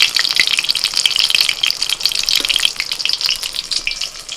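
Cabbage pakoras and chicken rolls wrapped in cabbage leaves fry in hot oil, giving a steady, dense crackling sizzle with a few small bubbling pops and no voices.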